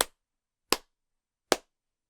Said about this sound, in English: Santa is of course thrilled with this invention, which he demonstrates by clapping slowly 3 times.